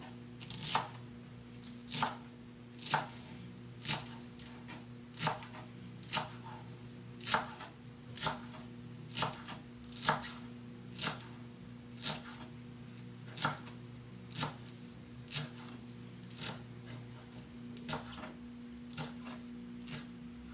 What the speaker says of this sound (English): if you're going to use the stems, I recommend to slice them pretty tiny